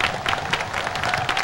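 Large outdoor crowd at a Haitian national celebration applauding, dense rapid clapping with scattered cheers, fairly close and sustained throughout.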